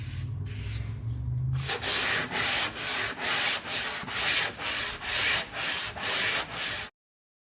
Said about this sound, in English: Now we're going to add a guide coat and do a little block and find out if there's any low spots.